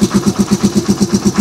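The engine of a Rusi Chariot 175 trike runs at a steady idle close to the listener, giving a loud, even chugging pulse about eight beats per second.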